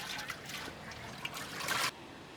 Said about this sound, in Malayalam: ഇനി ഇതിലേക്ക് വെള്ളം ഒഴിക്കുന്നു